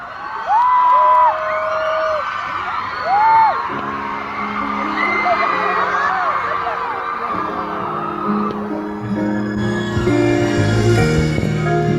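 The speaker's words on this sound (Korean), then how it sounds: "큰 박수 부탁드립니다" Concert audience at a live show roaring with whoops, high shrieks and yells over sustained applause, loud and dense throughout, with music and an amplified voice entering in the later part.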